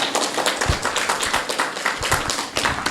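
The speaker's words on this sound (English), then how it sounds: "Can we give an applause to Professor Schaefer?" Applause breaks out from an audience at a Q&A talk event, a dense, close run of clapping with individual sharp hand claps audible throughout.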